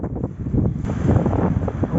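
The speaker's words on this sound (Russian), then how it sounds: "Вон видно, прям как ветер дует от берега" Strong offshore wind by a calm sea buffets the microphone in a steady low rumble, with faint water sounds underneath and no speech.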